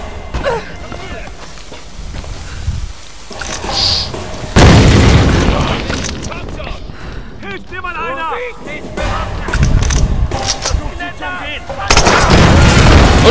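Loud booms and bursts of gunfire-like blasts in a chaotic Tomb Raider game soundscape, with a voice talking over parts of it.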